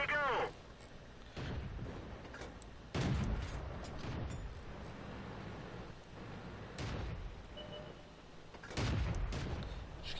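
Tank guns firing in World of Tanks on the Murovanka map: several deep booming shots spread across the stretch, with rumbling decay and battle noise between them and no talk.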